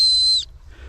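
An ACME 211.5 dog whistle is blown in one short, steady, shrill high tone that cuts off cleanly, leaving faint low background noise.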